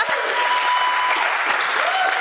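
Audience applause at a live comedy podcast taping with Mike Ward at the ComédiHa festival, a dense, steady wash of clapping from a crowd that fills the whole moment at an even level.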